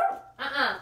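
A dog gives two quick, close barks, the second louder and higher, in under a second indoors.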